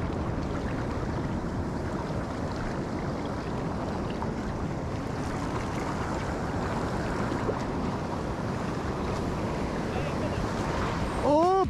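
Ocean waves break on a beach where anglers stand in the water fishing for snook, a steady roaring wash of surf mixed with wind noise, with a brief voice near the end.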